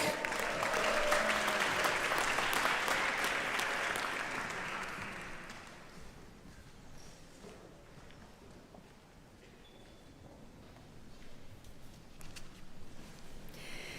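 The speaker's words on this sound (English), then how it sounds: "Let's have another round of applause for all of our Professional Studies Certificate recipients" A commencement audience at the Manhattan School of Music breaks into warm applause for certificate recipients, a full, sustained round that fades after about five seconds into a quiet hall with scattered claps and shuffling.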